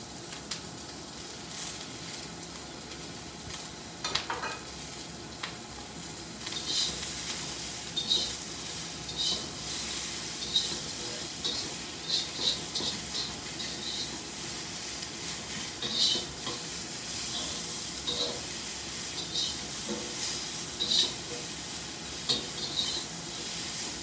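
Shrimp stir-frying with green beans and bacon in a hot pan makes a soft, continuous sizzle under scraping and stirring, with occasional light clicks of a utensil against the pan, fairly quiet and close.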